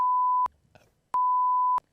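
Two steady electronic censor beeps, each about half a second long, separated by a brief gap with a faint murmur, clean and loud over near-silence during a casual chat podcast.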